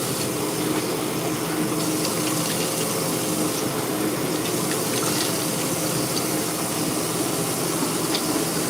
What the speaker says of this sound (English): I have some soap on my face that I'm gonna wash off right now.